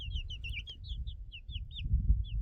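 Young brooded chickens cheeping and clucking nearby, a run of high repeated chirps over a low rumbling background, no talking.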